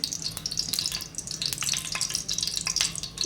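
Oil hisses and crackles in a cooking pan on a home stove, a dense, close sizzle with quick popping spits running throughout and no speech.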